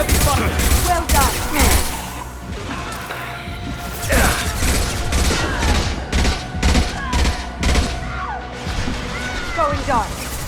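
Heavy gunfire in a Mass Effect Legendary Edition firefight: dense bursts of rapid shots and crashing impacts, loud and close, with shouted voices cutting in between.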